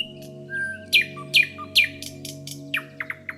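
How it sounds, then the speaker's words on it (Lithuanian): A nightingale sings close by: a few sharp chirps followed by a quick run of rising whistled notes, over a low steady background hum. "Lakštingala baigė paskutinę giesmelę ir išskrido."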